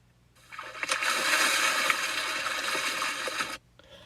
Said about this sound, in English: she did a perfect dive into the water.